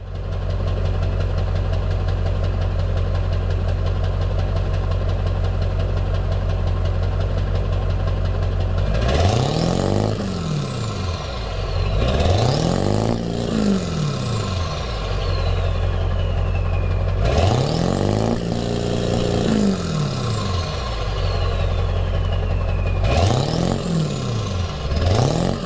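Ford 7.3 diesel pickup fitted with a resonator, idling with a steady low exhaust rumble, then revved repeatedly in four sharp bursts that swell and fall back to idle.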